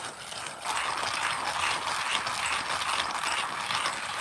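Espresso coffee beans being hand ground in a manual grinder, a steady close rasping, crunching churn that starts after a brief pause and keeps an even rhythm throughout.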